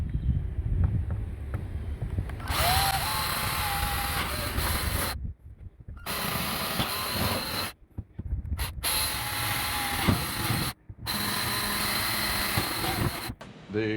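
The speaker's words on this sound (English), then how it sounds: "drill holes in the bottom of these ammo cans" A power drill whirs loudly in long bursts, grinding holes through the bottoms of metal ammo cans, with brief pauses between runs and a rough mechanical rattle.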